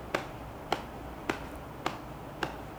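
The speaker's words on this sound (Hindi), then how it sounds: "पहले आप ऐसे गाओ, ऐसे ताली लगा के" Hands clap out a beat to keep time for singing: five sharp, evenly spaced claps, close and fairly faint, with no voice heard between them.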